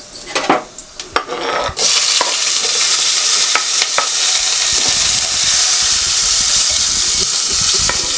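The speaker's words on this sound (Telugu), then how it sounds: "ఆయిల్ వేడెక్కిపోయింది ఒక్క స్పూన్ జీలకర్ర వేసుకుంటున్నా" A spoonful of cumin seeds hits hot oil with a sudden loud sizzle that holds steady and close, after a few light clinks of a pan; no one speaks.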